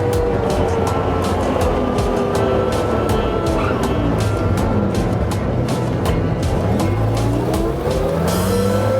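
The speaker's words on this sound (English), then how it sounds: "I just press the clutch, and then now it's down to second gear" A car's clutch goes down and the gearbox drops to second, set against a loud, steady engine and road roar with shifting engine tones throughout.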